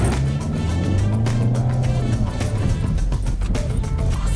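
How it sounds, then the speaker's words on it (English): A car driven fast on a smooth test drive course, its engine a loud, steady rumbling drone that rises slightly in pitch, close up throughout with no break. "This course is smooth, so you can drive faster."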